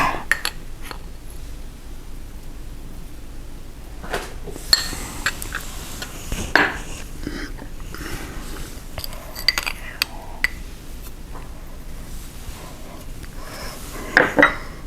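Calamari stuffing ingredients being mixed in a bowl, with scattered clinks and scrapes of a utensil against the dish and a few louder knocks over quiet background.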